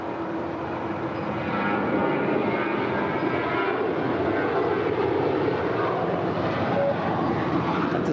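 A Boeing 777-300ER taxis toward the gates at LAX, its engines a steady, moderately loud rumbling whine that rises slightly after the first seconds and holds.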